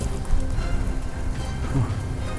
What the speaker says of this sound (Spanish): Sigue lloviendo mucho.